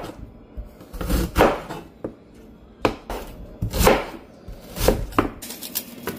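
A knife chops onion, garlic and ginger on a board in a kitchen, giving irregular sharp knocks with short pauses between bursts.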